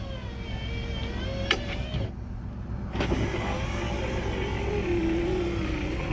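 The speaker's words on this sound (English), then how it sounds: "Power windows." A 1976 Cadillac Eldorado's power window motor hums steadily up close, pausing briefly with a couple of clicks, then running again with a rising whine.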